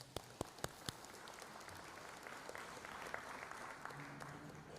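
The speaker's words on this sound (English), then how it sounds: "Let's give them a round of applause." An audience at an economic symposium breaks into applause after a few loud, isolated claps, settling into a soft, distant, even patter of clapping.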